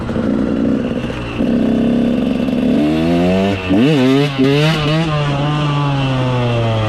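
A motorcycle engine revs hard through a wheelie, loud and close, its pitch climbing and dipping in several sweeps, with a brief drop as the throttle eases before it surges again and holds a steady drone.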